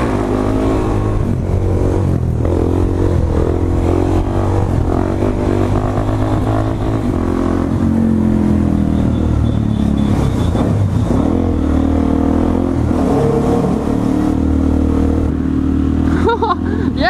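A moped engine buzzes and revs continuously up close on a London street ride for a long stretch, its pitch rising and falling with throttle changes.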